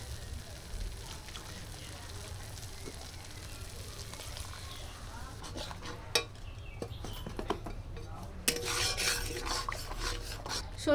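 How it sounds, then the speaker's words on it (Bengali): Mustard-poppy paste and melted tomato fry with a low steady sizzle in a pan, with intermittent scraping and rasping strokes of stirring that grow louder near the end. "দিয়ে ভালো করে একটু কষিয়ে নেব।"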